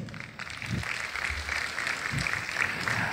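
An audience applauds at the Global Leadership Awards 2013 ceremony, giving steady, moderately loud clapping that runs continuously from start to finish.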